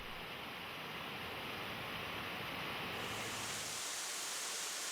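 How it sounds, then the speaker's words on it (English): Rushing mountain water in the Great Smoky Mountains, a steady, loud broadband roar that fills the clip with no voices, its tone shifting slightly brighter partway through. "Rushing water."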